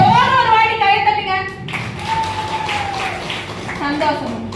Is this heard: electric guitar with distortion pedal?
no